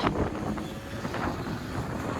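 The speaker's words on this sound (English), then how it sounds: "I really hope you guys can hear me over this damn wind" Strong wind buffets the microphone in a continuous roaring rumble on Sheppard Avenue West in North York, Toronto, loud and close, with no other sounds standing out.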